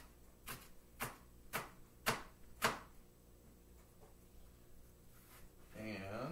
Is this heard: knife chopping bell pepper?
yes